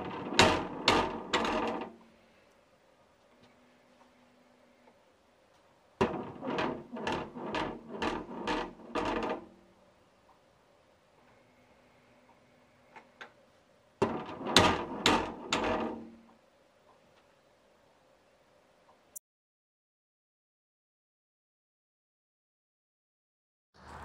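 A homemade app-activated cat door opener runs its motorized lock down and back up in three bursts of loud rapid mechanical clattering, separated by stretches of near silence with a faint hum.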